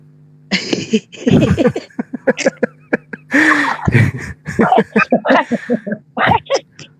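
A man coughs in harsh, repeated bursts mixed with throaty breaths and brief voiced sounds, loud and close, in a series of irregular fits across the whole stretch.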